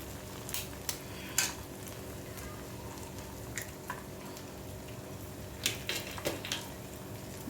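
A spicy mixture with chili powder and coriander is stirred in a pan, soft intermittent scrapes and wet squishing clinks over a faint sizzle, quiet and close.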